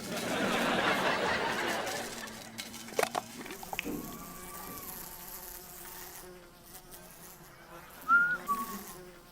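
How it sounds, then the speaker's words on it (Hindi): An angry bee buzzes loudly and steadily for the first couple of seconds in a comedy TV scene, then fades out, followed by scattered thuds and softer background sounds. "मधुमक्खी रेडी है,"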